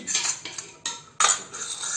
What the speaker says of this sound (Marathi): आता हे मिश्रण पहिलं चांगलं ढवळून घेऊया